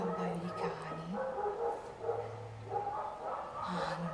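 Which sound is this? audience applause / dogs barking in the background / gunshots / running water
dogs barking in the background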